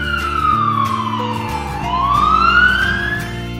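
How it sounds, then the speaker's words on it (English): Toy black police car siren wailing loudly and continuously for a few seconds, its pitch sweeping down and then back up over a steady electronic backing tune. "Black police car."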